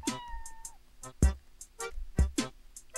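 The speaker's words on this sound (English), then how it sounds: "That's a cat." A cat meows several times in a first-person video game where a bow is used, with short bright cries spaced across the moment over a faint steady game tone.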